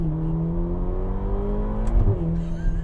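Ferrari GTC4 Lusso T with a twin-turbo V8, steady engine drone held at near-constant revs with a brief blip and shift around the two-second mark, heard close up and alone.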